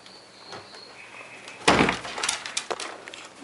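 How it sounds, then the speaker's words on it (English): A door opens with a sudden loud rattle, then scrapes and clatters for a moment before a few lighter knocks. "Watch me open the door."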